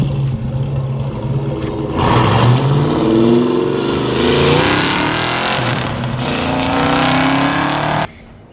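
A Fox-body Ford Mustang's powerful engine rumbles loudly and steadily, surging as it revs up midway, then cuts off abruptly near the end.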